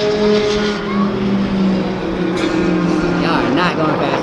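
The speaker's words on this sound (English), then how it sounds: "Speeding, they speeding." Cars speeding past at Echo Park Speedway during the Import Alliance ATL 2024 event make a loud engine roar that rises and falls, with people talking over it nearby.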